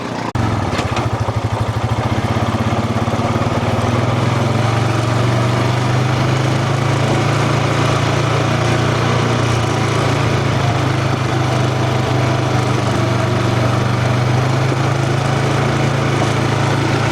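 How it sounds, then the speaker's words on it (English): An ATV engine runs steadily in the Rockies, a loud, continuous buzzing drone held at a constant pitch close by, with no talking. "So I'm zooming on this motorcycle."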